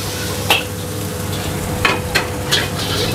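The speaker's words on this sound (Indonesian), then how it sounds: "Oke, ini kita tumis, nanti dia bakal ngeluarin minyak sendiri ya, atau lemak dari daging sapinya." Fatty beef short plate stir-fries with garlic in hot oil, a loud continuous sizzle broken by a few sharp scraping stirs against the pan, close up.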